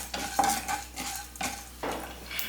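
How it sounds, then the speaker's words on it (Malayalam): A spoon scrapes and stirs chana dal through sizzling oil in a pan, several distinct strokes over a soft, quiet frying hiss. "ഒന്ന് ഇളക്കി കൊടുക്കാം"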